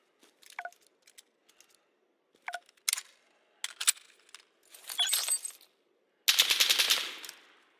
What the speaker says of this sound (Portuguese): O som de tiros é um aviso de presença inimiga.